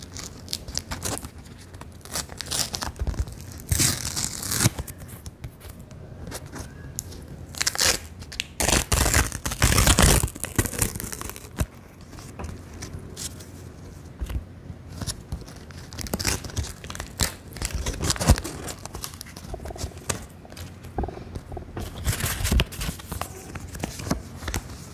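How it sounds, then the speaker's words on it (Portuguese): World Cup 2022 sticker packets being torn open and handled up close, with repeated crinkly paper tearing and rustling in uneven bursts throughout, quiet and intimate in an ASMR style. "Vamos abrir figurinhas do Fábio."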